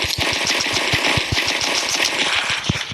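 A P90 fires in Free Fire during a Solo vs Duo match, giving rapid sustained automatic gunfire with evenly spaced sharp shots. It stays loud and continuous for the whole short burst.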